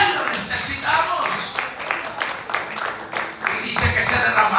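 Applause and clapping rise from a church congregation during an evangelist's sermon, a dense, steady patter of many hands lasting several seconds with crowd noise mixed in.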